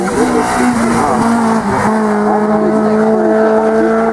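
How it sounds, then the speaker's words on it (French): A 2-litre Peugeot 306 S16 Group N race car launching at a hill climb start, its engine loud and close, revving hard with tire squeal and rising pitch through quick gear changes. "Nicolas Bonnet, 2 litres du groupe N, la 306 S16 au départ"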